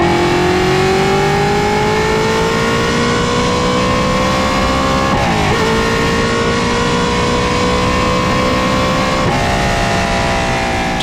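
A 3rd-gen Chevy Camaro with a 700-horsepower D-stroked LS7 V8 revs hard toward 8,500 RPM, a loud, close engine roar climbing steadily in pitch, dropping briefly at two gear changes, then rising again.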